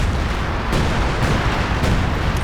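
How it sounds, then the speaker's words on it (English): Continuous rumbling barrage of 105 artillery shelling in the World War II strategy game Company of Heroes 2, dense booming explosions blending into a steady loud roar with a couple of sharper blasts standing out. "Got some more 105 artillery from RANZMAN"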